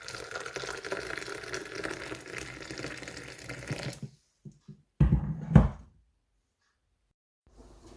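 Boiling water pours steadily over instant coffee for several seconds, then stops, followed by a few light knocks and a brief clink before near silence.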